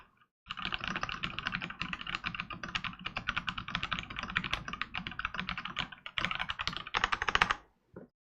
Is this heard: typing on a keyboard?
yes